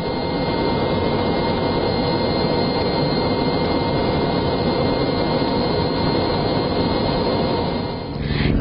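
Loud, steady roar of an aircraft engine heard from inside a small plane flying an aerial filming route over Yangzhou, continuous and unbroken for the whole stretch, dipping slightly near the end.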